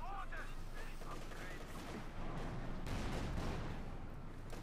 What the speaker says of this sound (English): Panzer IV shoots, shatters the cover.